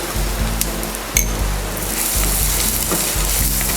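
Ginger garlic paste frying in butter with cashew nuts for butter chicken, a loud, dense, continuous sizzle close up with a sharp clink of a utensil against the pan early on, no voices.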